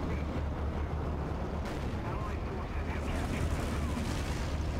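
Distant tank gunfire and rumbling battle noise from War Thunder with high-tier UK tanks, a continuous dense low roar with scattered booms, fairly faint and steady throughout, no talk.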